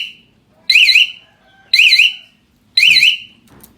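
An aftermarket anti-theft alarm fitted to a Honda CBR 500R motorcycle chirps three times, each a short loud warbling electronic tone separated by pauses, with no talking.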